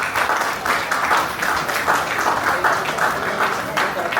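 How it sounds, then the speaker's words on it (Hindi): Sustained audience applause fills an auditorium in Jamshedpur during a Sant Gadge Jayanti and Bhim Samagam gathering, steady dense clapping from a crowd welcoming a speaker, with no gaps across the whole stretch. "मैं चाहता हूं कि जोरदार तालियों से स्वागत कीजिए"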